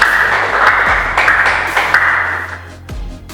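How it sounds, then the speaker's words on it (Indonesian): Students in an Indonesian classroom clap for a presenting group, a steady close hiss of many hands that holds evenly for a few seconds with a couple of sharper knocks mixed in. "Tepuk tangan untuk kelompok 1 dulu,"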